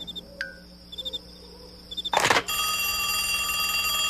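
Cartoon telephone in a night forest: a bright bell ring bursts out briefly, then rings on steadily and loud, over continuous chirping crickets and short insect trills, with no voices.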